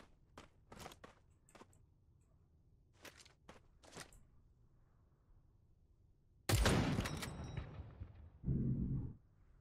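Several sharp gunshots crack in a sparse sequence, then a loud burst of heavy gunfire and a muffled blast, with game-like sound effects, in the PC game Badlanders.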